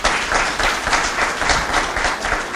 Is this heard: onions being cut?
no